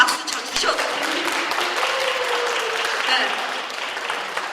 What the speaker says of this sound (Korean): 이 대목에서 조금 박수 쳐주셔도 됩니다.